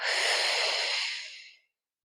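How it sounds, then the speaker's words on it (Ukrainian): A single long breath, in and out, during a calm anxiety-relief practice: a close, airy exhale that holds steady and then fades to silence after about a second and a half, with no talk. "Ще раз вдих і видих."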